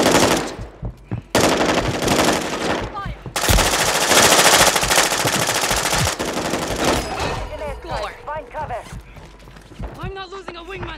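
Rapid automatic gunfire bursts in the Warzone video game, loud and close, broken by short pauses and mixed with game effects, while a voice talks over the later part.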